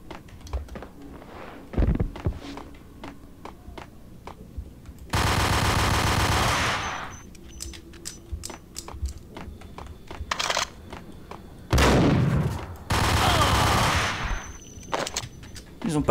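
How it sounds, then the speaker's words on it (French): Rapid automatic gunfire in the Max Payne video game, loud sustained bursts of a couple of seconds each, separated by quieter stretches of scattered shots and clicks. "Haute cadence de tir, avec beaucoup de puissance de feu."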